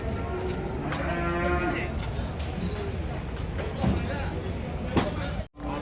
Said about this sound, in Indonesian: Perkasa ini, sapi perkasa.